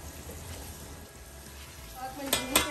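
Marinated chicken fries in a pan with a soft, steady sizzle, and two sharp metallic clinks of stirring near the end.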